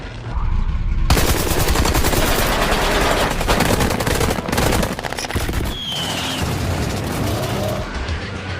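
Batman's Bat Tank firing rubber bullets in an animated film, a loud rapid burst of automatic gunfire rattling for several seconds with booming impacts and brief pauses.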